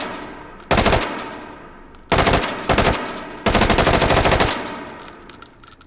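A Russian gun fires unsuppressed in the VR game H3VR, three loud close bursts of rapid automatic fire separated by short pauses, with echoing tails between them.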